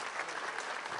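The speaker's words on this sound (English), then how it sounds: "A round of applause, please, for Gad Saad." Audience applause after a lecture, an even, fairly faint patter of many hands clapping for about a second with no talk.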